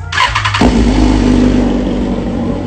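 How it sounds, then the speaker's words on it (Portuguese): A tractor engine cranks and catches, then settles into a loud, steady idle heard up close with no other sounds. "Escuta a partidinha do trator."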